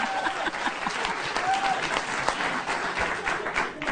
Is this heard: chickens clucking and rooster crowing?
no